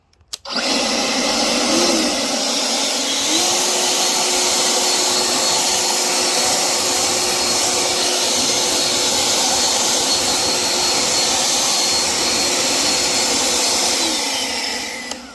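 A Kobalt 500 CFM cordless brushless leaf blower runs on turbo with a loud, steady roar and a high whine. It spins up at the start and holds a constant blast for about fourteen seconds, close and with no talking.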